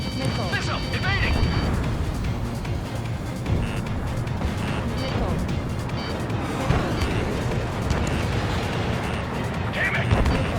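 Missile launches, blasts and gunfire in the Ace Combat 7 flight game, a dense continuous roar of combat noise with bursts and crackles throughout, overlaid with radio chatter.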